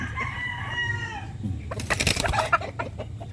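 A Bulik breeding hen clucks and squawks nearby in short, uneven bursts, over a low rumble of background noise.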